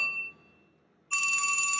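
A cell phone rings, a steady bright electronic tone starting abruptly after a short quiet gap and holding loud and close until the end, with a fading ring tail at the start.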